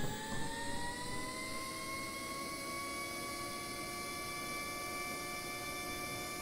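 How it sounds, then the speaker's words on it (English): HondaJet jet engine idling in a flight simulator, a steady smooth turbine whine with sustained high tones and a low broadband rumble, constant level throughout. "the engine sounds pretty damn good, I would say"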